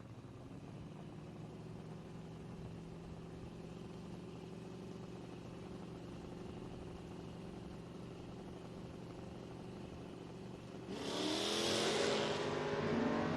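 A Mustang and a Nova at a footbrake drag race idle at the line under a steady engine drone, then launch together near the end with a sudden loud surge of revving engines.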